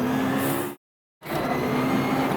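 A twin-turbo V8 hypercar roars under hard acceleration, a dense, loud engine and road roar cut by a sudden gap of near silence before resuming just as strongly.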